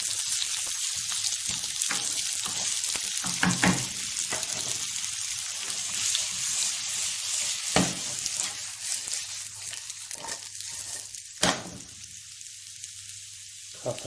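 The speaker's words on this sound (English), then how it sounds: "Oil starting to smoke, so I'm going to put the first lot of ingredients straight in there." Aubergines and other ingredients hit smoking-hot oil in a pan and fry with a steady, close sizzle that runs throughout, broken by occasional sharp clatters and stirring knocks.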